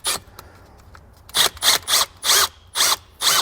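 Power drill with a small bit boring into a 2017 Chevrolet body during a battery disconnect install, heard as five or six short, loud whirring bursts in a steady on-off rhythm after a quieter opening.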